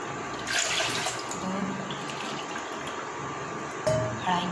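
Water poured from a cup into a pot holding sugar for syrup, a steady splashing stream close by with a couple of brief louder splashes.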